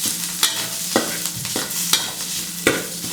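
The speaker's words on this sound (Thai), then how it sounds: "ตรงนี้ก็ค่อย ๆ ผัดนะครับ พอพริกแกงหอมนะครับ" Thai northern chilli paste, nam prik ong, is stir-fried in a pan: a constant close sizzle broken by regular, rhythmic scraping strokes of a spatula, about one every half second.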